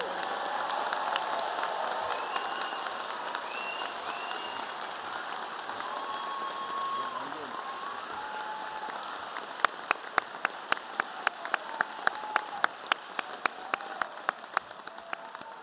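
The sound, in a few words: applause for the medical class of 2030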